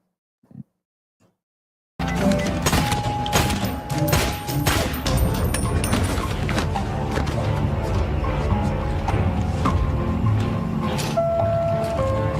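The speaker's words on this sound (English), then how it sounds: "this is the bang bang scene, the shoot 'em up scene" Movie shoot-out scene with rapid bursts of gunfire and explosions amid a loud, dense action soundtrack of music and effects, starting abruptly after a brief quiet lead-in.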